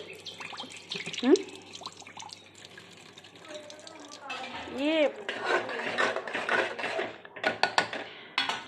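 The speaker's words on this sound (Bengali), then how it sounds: "এখন জল দিয়ে ভালোভাবে ধুয়ে নিচ্ছি" Water splashes and drips while conch-shell bangles and rings are rinsed, with hard clinks of shell against shell and occasional scraping at a sink; a voice talks softly in the background.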